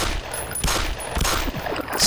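Gunfire in the video game Black Mesa, a loud rapid burst of several shots blending into dense crackling over steady game noise, with no talking.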